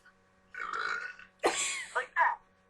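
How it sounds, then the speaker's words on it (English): A loud, drawn-out human burp followed by two more guttural belches in quick succession, close and forceful. "by burping really loudly"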